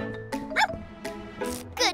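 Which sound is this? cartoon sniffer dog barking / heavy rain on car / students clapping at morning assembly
cartoon sniffer dog barking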